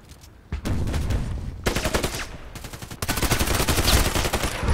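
Gunfire in the online shooter Contract Wars: loud, rapid bursts of automatic fire, sparse at first, then dense, continuous volleys that swell in the final seconds.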